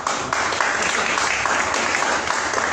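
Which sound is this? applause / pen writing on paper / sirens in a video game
applause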